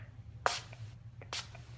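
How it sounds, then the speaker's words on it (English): Finishing spray misted from a hand spray bottle during hair styling, two short hissing bursts about a second apart, close and fairly quiet over a low background hum. "I'm going to spray it with our 10 Years Younger finishing spray right here"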